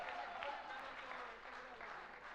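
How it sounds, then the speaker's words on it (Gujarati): Audience clapping at a community event, a brief continuous burst of applause heard from within the crowd. "જોરદાર તાળીઓ"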